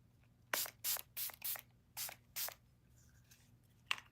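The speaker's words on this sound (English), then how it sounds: "I think I'm just gonna spray a little bit." Several quick hissing bursts from a makeup setting spray bottle, six short pumps in a row with a faint one after a pause, close and fairly quiet.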